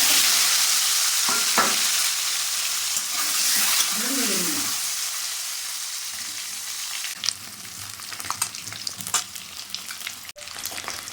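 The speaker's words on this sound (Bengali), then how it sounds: "তেল গরম হয়ে এসেছে, এর মধ্যে 6টা ডিম দিয়ে দিচ্ছি।" Six eggs fry in hot oil in a kadai for egg curry, making a loud, sustained sizzle with stirring and scraping, softened in the middle and followed by scattered pops and clinks.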